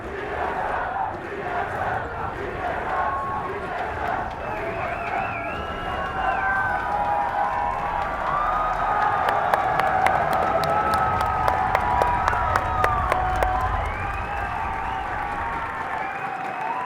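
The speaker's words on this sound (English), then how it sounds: "The crowd is going insane." A large crowd at the IPL4 esports event roars and cheers continuously, with rhythmic clapping and a TSM chant swelling midway before settling back into a steady din.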